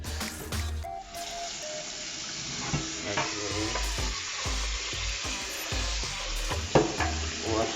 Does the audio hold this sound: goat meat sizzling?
yes